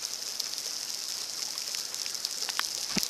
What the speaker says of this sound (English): This is the hardest rain I've ever seen in my life.